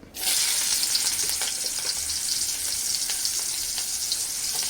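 Chopped onions dropped into hot oil for egg thokku, starting with a sudden hiss that settles into a steady, close, continuous sizzle with faint crackles, no talking.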